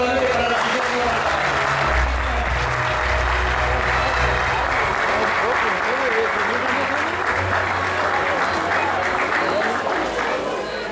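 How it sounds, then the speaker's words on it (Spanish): A crowd at a horse auction bursts into loud, sustained applause, continuous dense clapping with some crowd voices mixed in, close and full throughout. "Le voy a pedir un fuerte aplauso"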